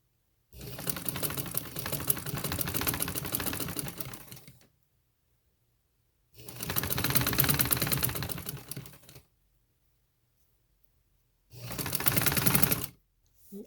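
A sewing machine stitches a piped neckline with lace held alongside, running in three loud, steady bursts separated by short pauses.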